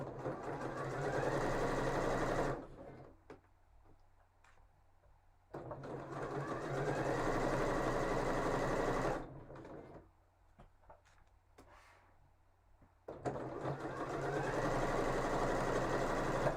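A sewing machine stitches fabric in three long runs, separated by short quiet pauses filled with small handling noises; the motor and needle whir steadily and fairly close.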